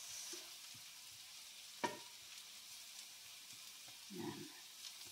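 Onions and other empanada filling ingredients frying in a pan, a quiet steady sizzle with a sharp clack near the middle and a short louder burst of stirring toward the end.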